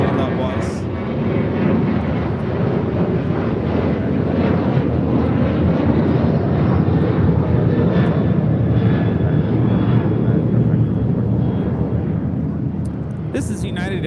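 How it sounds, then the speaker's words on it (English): United Airlines Boeing 737-900ER taking off from LAX for Phoenix, a loud, sustained jet engine roar with deep rumble that stays strong throughout, and a voice heard talking over it. "This is United Airlines 759 taking off to Phoenix on a 737-900ER."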